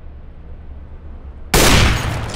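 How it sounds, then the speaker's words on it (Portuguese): A single sharp, loud gunshot from Counter-Strike: Global Offensive gameplay cuts in after a second and a half of low background hiss, then its noisy tail lingers. "Esse é o tipo de tiro que decide quem vai ganhar o jogo, hein?"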